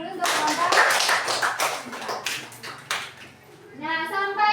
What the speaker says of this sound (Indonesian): Kasih tepuk tangan dulu untuk kelompok.